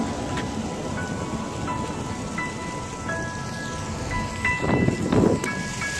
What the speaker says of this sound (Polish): A taki delikatny deszczyk tylko dodaje trochę nastroju.